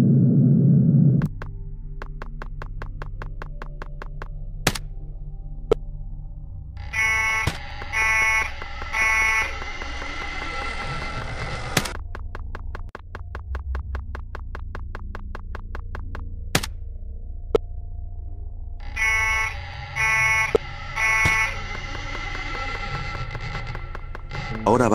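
A red alarm in the horror game Five Nights at Wario's: two repeated bursts of a loud electronic alarm tone over a low ambient hum, with scattered thumps and clicks in between.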